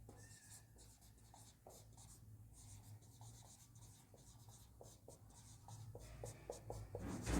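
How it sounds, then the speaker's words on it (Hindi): Marker or chalk strokes on a board during a maths lesson, a steady run of short scratchy taps and squeaks, fairly faint and close, with no talking, growing a little louder toward the end. "इंग्लिश में लिख देते हैं।"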